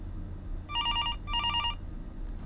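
An electronic telephone ring sounds in two trilling bursts with a short gap between them, moderately loud over low background hum, from the horror game Fears to Fathom: Norwood Hitchhike.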